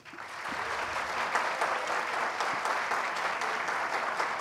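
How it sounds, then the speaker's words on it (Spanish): A conference audience gives a speaker a sustained round of applause, with dense, even clapping that fills the hall at a steady level from start to end. "Vamos a recibirlo nuevamente con un fuerte aplauso, por favor"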